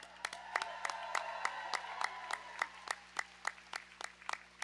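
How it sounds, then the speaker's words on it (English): A crowd at a junior roller derby game claps, with sharp distinct claps in a loose, uneven rhythm over a faint hum, fairly quiet and heard from a distance in a large hall. "keep clapping for all of our officials on skates and off"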